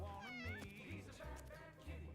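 Cats in the video game Mewgenics meow several times in quick succession, rising and falling cries, close and fairly loud, set over a low game music background.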